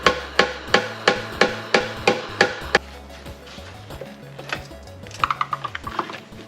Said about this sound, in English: I should probably hammer down this lip